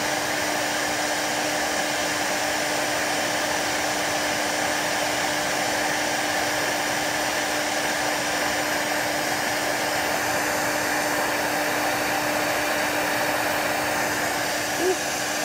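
A hair dryer blows steadily while drying a handmade craft doll, a loud, unbroken airy roar with a fixed motor hum that lasts throughout.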